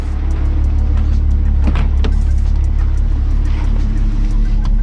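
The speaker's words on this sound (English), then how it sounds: "Car is idling" A turbocharged MK3 Volkswagen VR6 Variant idles nearby with a steady, low, even engine drone, punctuated by a few brief clicks and knocks.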